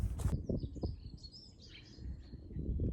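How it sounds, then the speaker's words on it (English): Birds sing and call in the distance on a winter farm, thin high tweets drifting over a low rumble of wind or outdoor noise. "the birds are singing and there's a break in the cloud"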